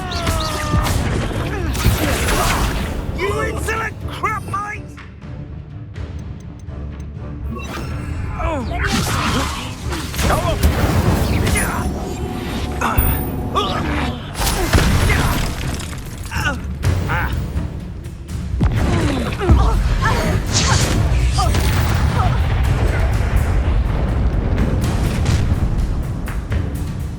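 Incendiary spell explosions in a Hogwarts Legacy battle: loud repeated booms, crashes and fiery whooshes come in dense bursts, with combat voices shouting between and over them.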